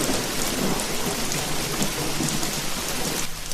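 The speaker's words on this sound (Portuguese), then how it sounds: "A chuva ficou mais forte." Heavy rain pours steadily on surfaces with rolling thunder underneath, a dense loud continuous wash that eases slightly at the very end.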